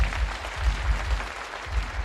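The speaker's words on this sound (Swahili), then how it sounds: "Hebu tumpigie makofi." A church gathering applauds a reverend, giving a short burst of continuous crowd clapping with soft low thumps underneath.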